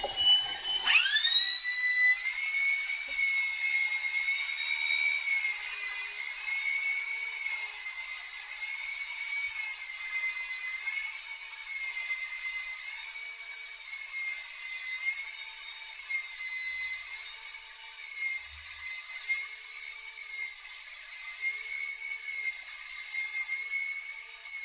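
An HSK plastic extruder runs continuously while purging old material and laying a plastic bead, giving a steady, loud high-pitched whine with stable tonal bands that holds without pause and without talk.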